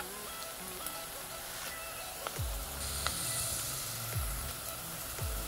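Onions sautéing in a pan while cooking a bitter gourd curd thokku give a steady, soft sizzling hiss with a few dull low knocks scattered through it.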